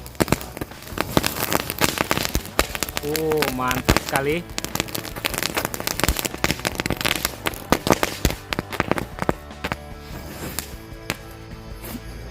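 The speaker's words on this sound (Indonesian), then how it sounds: "kita lanjut menyalakan mercon green lighting" Green lighting firecrackers crackle densely and continuously, a rapid hail of small pops with a few louder snaps, while people talk and exclaim over the noise.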